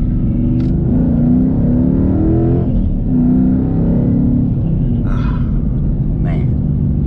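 A Ford Boss 302 with its side pipes uncorked drives on the road, its low, rumbling exhaust droning steadily and loud throughout, with a couple of brief higher noises above it.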